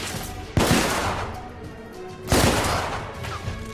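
The player fires a gun in The Order: 1886, two loud sharp blasts about two seconds apart, each trailing into a rough rumbling decay, with no talking over them.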